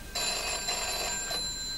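An old-style telephone bell rings in a short burst, a bright metallic trill lasting over a second, fairly close and alone.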